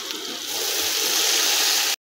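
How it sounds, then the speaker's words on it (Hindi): Biryani masala stirred into water pours into a cooking pot as a steady liquid gush, which ends abruptly after about two seconds, with no talking. "मसाला पानी में घोल के शामिल करूँगी"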